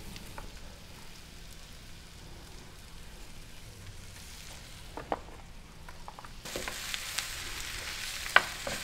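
Cornstarch-coated beef sizzles in hot oil, a soft steady frying hiss that grows brighter and louder partway through, with a few faint clicks.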